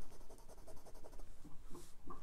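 A 1950 Waterman Taperite Lady Crusader fountain pen with a 14 karat gold fine nib scratches across paper, a soft rhythmic scritching close up against steady background noise.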